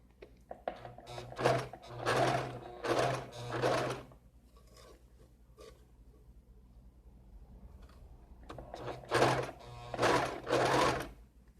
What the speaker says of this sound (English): As you hear slow and steady, this is the way that it goes in the sewing.